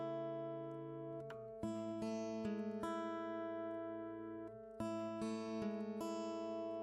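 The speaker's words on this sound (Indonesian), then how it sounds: "Nah, ada suaranya klik, klik, klik. Itu suara dari relay." Sharp relay clicks once per second from a simple 1 Hz pulse generator circuit, in short bursts over a steady electronic tone that shifts pitch now and then; quiet and close, with no voices.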